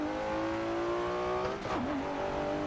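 A Nissan GTR engine in the Assetto Corsa racing game, a steady rising drone that climbs in pitch, then drops briefly around a gear change before carrying on, moderately loud and without speech.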